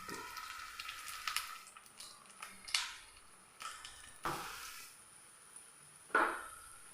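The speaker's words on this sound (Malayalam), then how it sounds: "നമുക്ക് ഇനി നമുക്ക് എണ്ണ ഒഴിച്ച് കൊടുക്കാം കേട്ടോ പാൻ ആയതുകൊണ്ട് നമുക്ക് ഒത്തിരി എണ്ണയുടെ ആവശ്യമില്ല" Egg and potato snacks placed one by one into a little oil in a pan give quiet bursts of sizzling, each flaring up and fading, with soft clinks between them.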